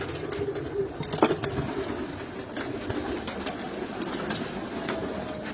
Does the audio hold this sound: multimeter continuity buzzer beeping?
no